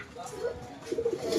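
Soft racing pigeon cooing close by, a few low murmuring calls mixed with light background noise.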